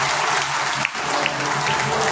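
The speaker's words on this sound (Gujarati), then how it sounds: "રમેશ જોગલ એમના માતૃશ્રી માટે એકવાર જોરદાર તાળી" An audience claps loudly and steadily at a Kargil Vijay Diwas honouring ceremony for a martyred soldier's mother, dense applause filling the hall throughout.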